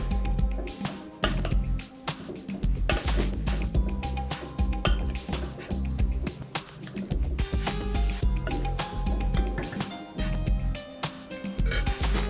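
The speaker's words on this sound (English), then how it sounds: "we'll toss them in the vinaigrette" Warm lentils tossed in vinaigrette in a bowl, with a busy run of clinks and scrapes of a utensil against the bowl, irregular and close, continuing alone throughout.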